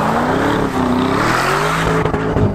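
A Lamborghini Urus SUV's powerful engine roars continuously while drifting on snow, its revs rising and falling steadily, with brief rough bursts near the end, loud and close.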